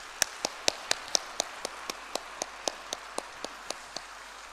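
A church congregation claps in a slow, steady rhythm during a Korean worship service: about eighteen evenly spaced, crisp claps of moderate loudness, with no voices over them.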